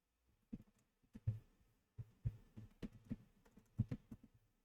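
Typing on a computer keyboard while coding, quiet close clicks in short irregular bursts of keystrokes with brief pauses.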